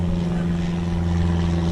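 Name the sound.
small single-engine airplane flying overhead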